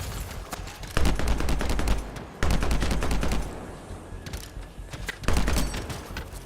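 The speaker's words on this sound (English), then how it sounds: "shooting frozen guys does a lot of damage" Bursts of rapid gunfire from the video game Anthem as frozen enemies are shot; loud, crackling volleys with brief pauses between them, the dense firing returning in three strong waves.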